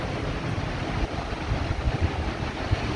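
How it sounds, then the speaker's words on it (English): Powerful hurricane wind gusts roar and buffet the microphone outdoors, a continuous low rumbling rush with irregular surges, loud and close, with no voices. "But man, is there wind."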